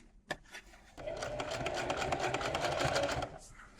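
A sewing machine stitches denim jeans in a quick, steady run of needle strokes lasting a few seconds, preceded by a single click and brief handling noise.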